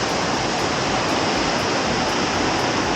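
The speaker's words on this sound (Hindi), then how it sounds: "इसको कहा जाता है देवी फॉल्स।" Devi Falls, a waterfall near Rishikesh in Uttarakhand, roars as a loud, unbroken wash of falling water heard up close, with no voices.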